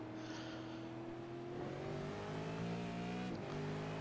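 V8 Supercars racing at Road Atlanta, a steady loud engine drone with shifting harmonic tones as cars hold speed and rev, one brief gear-change dip near the end, continuous throughout.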